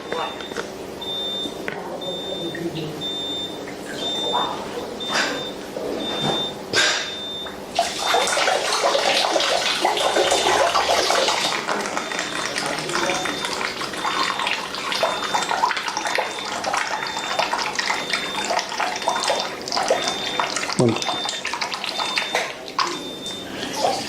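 A Kangen water ionizer machine switched on and dispensing high-pH water, a steady running-water stream pouring continuously for over fifteen seconds, with a voice talking over it throughout.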